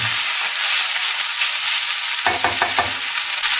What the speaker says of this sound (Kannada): ಒಂದು 4 ರಿಂದ 5 ನಿಮಿಷ ಸೊಪ್ಪನ್ನು ಚೆನ್ನಾಗಿ ಫ್ರೈ ಮಾಡ್ಕೋಬೇಕಾಗತ್ತೆ.